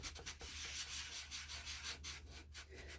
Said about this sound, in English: So I'm trying to just keep my sandpaper on that edge.